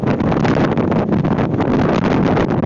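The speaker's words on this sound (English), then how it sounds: "It's obviously super windy and pretty cold out here at this point." Loud, constant wind buffeting the microphone on a cold day in Utah, a rough roaring rumble with brief gusty dips and no voices.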